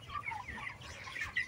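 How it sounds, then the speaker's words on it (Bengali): Chickens cluck and squawk in short, agitated bursts while one is being caught, their calls fairly close and repeating irregularly over a low background rumble. "এখন আমি মুরগি ধরবো, মুরগি ধরি, কোনটা ধরি?"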